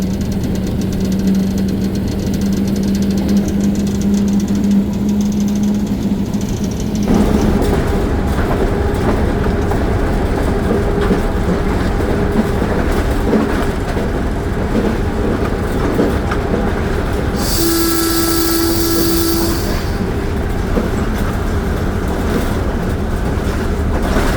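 A 129Up Thal Express train runs steadily from inside the locomotive cab, its continuous loud engine drone and rail clatter carrying throughout, with a tonal horn-like blast rising briefly near the end.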